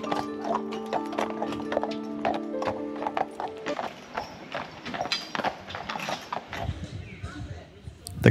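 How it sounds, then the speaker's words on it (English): Horse-drawn carriage heading up to Neuschwanstein and Hohenschwangau castles: rhythmic hoof clip-clops on pavement with creaking wheels and a few mechanical rattles, fairly close and steady, with a faint tonal drone early on. "there's also horse carriages going up to both castles"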